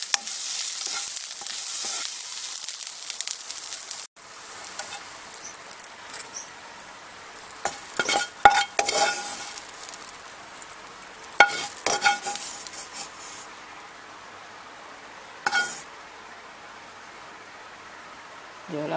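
Garlic and shallots frying in a pan, stirred with a utensil, giving a bright sizzle, scraping and patter that rise and fall in bursts, loudest early on and thinning toward the end.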